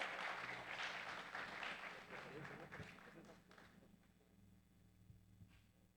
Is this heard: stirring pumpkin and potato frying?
no